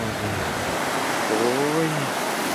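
Broadband surf of Baltic Sea waves washing onto the shore, a steady loud wash throughout with a brief voice-like tone partway through.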